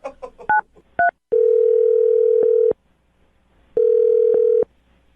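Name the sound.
telephone dial tone while dialing a phone number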